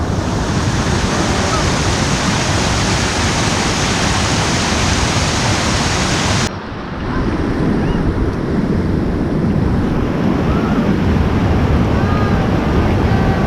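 Cold mountain river water rushes through Rocky Gorge in New Hampshire in summer, a loud, steady, broadband roar that continues unbroken, with a brief dip partway through before the rush fills back in.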